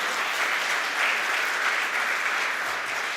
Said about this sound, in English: Please give a round of applause to the entire KCF team.